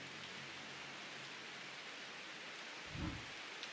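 Rain falls steadily as a soft, even hiss in the game Strange Horticulture, with a brief low thump near the end.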